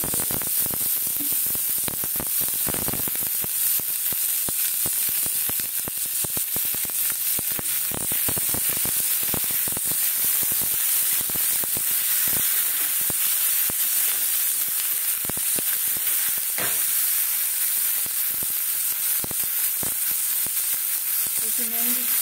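Onion and tomato frying together in hot oil, a steady close sizzle and crackle running throughout with occasional stirring scrapes.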